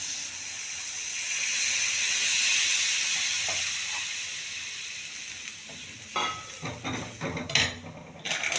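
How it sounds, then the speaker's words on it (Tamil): Tamarind water poured into a hot pan for Nellai-style fenugreek kulambu gives a steady close sizzle and hiss that swells then eases, followed by clinks and stirring scrapes near the end. "இப்போ இதை ஊற்றிடுறேன்."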